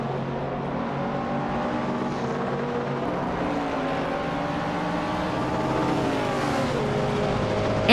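A 1975 Skoda 130 RS race car engine drones steadily in a racing video game, its harmonic tones bending gently as revs shift, loud and continuous with no talk.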